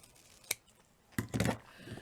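Scissors snip through ribbon for a fancy bow: one crisp cut, then a louder, longer rasping cut, close and quiet with no talk.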